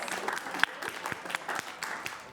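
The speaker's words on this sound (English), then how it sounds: "Give yourselves a round of applause." A live improv comedy audience claps in a brief, lively burst of scattered applause, quiet and somewhat distant, lasting a couple of seconds.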